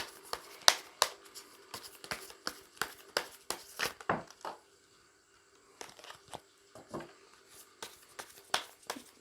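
Tarot cards being shuffled and drawn up close, a run of crisp, irregular riffling snaps and flicks, then a brief pause before further lighter card handling.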